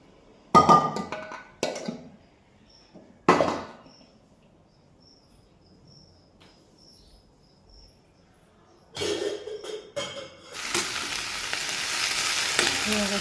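Cooked dal stirred and mixed in a pan at home: a few scraping clatters of the spoon, then a quiet gap, then a rising sizzle of frying as the mixing continues close by, with no talk.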